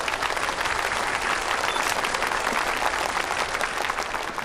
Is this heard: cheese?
no